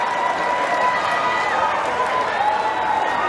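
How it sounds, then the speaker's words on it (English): Cricket crowd at a Super50 Cup grand final between CCC and Guyana Jaguars cheering and applauding a big hit, a loud, steady roar of massed cheers and clapping with no break. "And a very appreciative crowd enjoyed that one"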